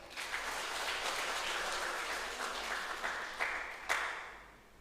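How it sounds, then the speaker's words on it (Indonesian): Audience at a Pemuda Batak Bersatu youth organization ceremony in Pemalang applauds in a steady wash of clapping, fairly distant and moderate, with a few louder claps near the end before it fades. "Boleh dong kita tepuk tangan."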